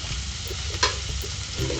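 Chopped onions, garlic, green chili and coriander leaves sizzle in a hot pan as they are stirred, a steady frying hiss with a few soft scraping strokes, close and without talk.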